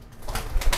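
Soft, low pigeon coos, two brief rounded calls close by over faint background noise.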